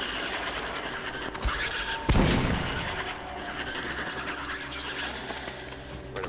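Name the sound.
gunfire shooting spiders in video game Metro: Last Light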